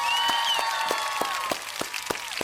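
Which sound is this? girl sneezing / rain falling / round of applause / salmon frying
round of applause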